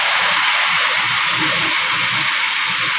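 Tamarind water hitting a hot pan gives off a loud, steady sizzling hiss, close and continuous, with faint bubbling underneath and no talking.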